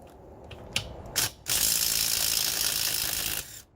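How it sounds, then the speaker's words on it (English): An impact wrench loosens lug nuts on a Ford Explorer damaged in an accident, with the nuts sprayed with WD-40. A couple of short rattling bursts lead into a loud, sustained mechanical hammering whir lasting about two seconds, then it cuts off. "WD-40 and an impact wrench. It's a beautiful thing."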